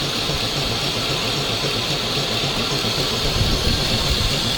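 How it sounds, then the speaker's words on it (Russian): Propellers on a ZIL-based amphibious vehicle run with a loud, steady, dense roar and a low engine rumble, continuous and close throughout. "Включились пропеллеры."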